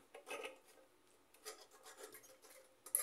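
Soft sandpaper rubs against the metal contacts of a rice cooker in quiet, close, uneven rasping strokes, ending with a slightly louder scrape.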